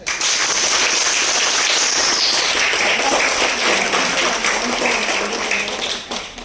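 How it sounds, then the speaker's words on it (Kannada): Loud, dense applause from a crowd at a school Sankranti festival celebration in Girinagar, sustained clapping that fills the space for several seconds before easing slightly at the end. "ಒಂದ್ಸಲ ವಿಶೇಷವಾಗಿ ಜೋರ ಚಪ್ಪಾಳೆ"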